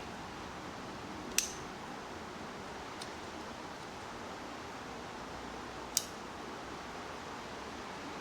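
Pruning shears make two sharp, crisp snips and one fainter one while branches are cut back on a pre-bonsai tree, spaced seconds apart over a steady soft background hiss.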